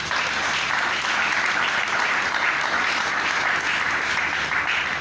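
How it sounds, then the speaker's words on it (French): Church congregation applauding together, a dense, steady wash of clapping that holds at full strength from start to finish with no voices standing out. "Applaudissons notre Dieu."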